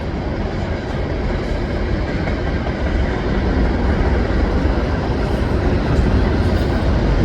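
A CN freight train rolls past a pedestrian crossing at Des Sources as a steady, loud, broadband rumble and rush. The noise builds slightly and holds throughout, with no talking.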